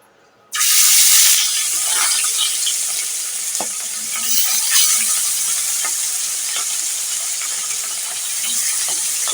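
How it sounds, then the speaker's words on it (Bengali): Loud, steady sizzle of hot oil in a wok as sea chapila fish go in to fry, bursting in abruptly and then hissing continuously with small crackles and occasional stirring clinks. "এখানে আমি মাছগুলো ভেজে নেব।"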